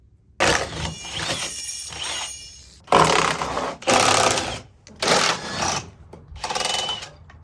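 A wrench working loose bolts, 10mm at the bottom and 1/2 inch at the top, to remove the steps from a vehicle: bursts of close, rapid ratcheting clicks separated by short pauses.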